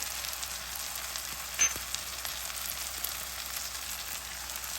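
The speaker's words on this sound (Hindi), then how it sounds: "ये हमारा मसाला अच्छे से भुन गया है।" Dry spices roasting in oil in a kadai for dhaba-style karahi bhindi masala, a steady soft sizzle and crackle held close, with one brief louder pop partway through.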